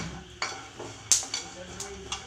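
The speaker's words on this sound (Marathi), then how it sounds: "शेंगदाणे फ्राय करून घ्यायचे आहे।" Peanuts fry in a little oil in a pan for a sabudana chivda, with light metallic clinks and scrapes of stirring over a faint sizzle, close and fairly quiet.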